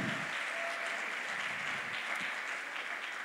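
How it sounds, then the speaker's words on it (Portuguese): Steady applause from an audience at a church youth event fills the moment, dense and even throughout, with a faint tone briefly above it. "Vamos aplaudir ao Jesus pela vida"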